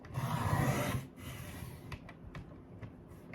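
Blade sawing through a small piece of craft-kit material to cut it at three inches, a steady rasping stroke for about a second followed by quieter scraping and light clicks.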